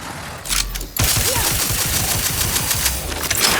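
Rapid bursts of stun weapon fire in The Outer Worlds 2 video game, a loud sustained crackling volley with dense rhythmic pulses after a brief opening shot.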